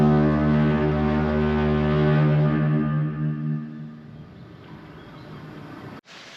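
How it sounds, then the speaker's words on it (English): Foghorn at Sumburgh Head lighthouse in Shetland, a deep, powerful droning blast with rich harmonics that sustains for about three seconds, then fades into a long echoing decay. "these are the engines that drove the foghorn."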